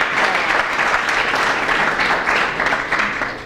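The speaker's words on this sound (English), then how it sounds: "Give Viney another round of applause" Audience applause at a Peace Action award event, a dense, steady wash of many hands clapping that holds for several seconds before starting to taper at the end.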